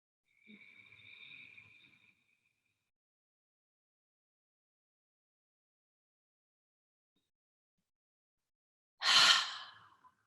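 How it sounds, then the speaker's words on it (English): Ujjayi pranayama breathing, deliberately louder than normal: a soft, airy inhale drawn deep into the belly, then a long silence, then a strong, close, rushing exhale near the end. "we're using the Ujjayi Pranayam to pull the breath down deep into the belly, fill the body up"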